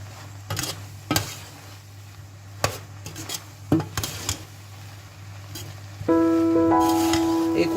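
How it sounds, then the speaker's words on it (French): A spoon stirs paprika into a tuna samosa filling, with several scraping and clinking strikes against the dish, then a steady higher-pitched sizzle-like tone takes over near the end. Nobody talks. "Et après, je mélange."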